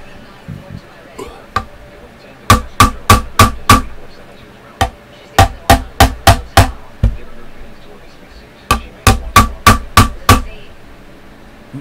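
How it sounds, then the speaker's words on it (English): Hammer strikes on a Jackson Warrior guitar in a workshop: loud, close, sharp blows in quick bursts of four to six, separated by short pauses, over a faint background hum. "Now I'm going to take a hammer to this real quick."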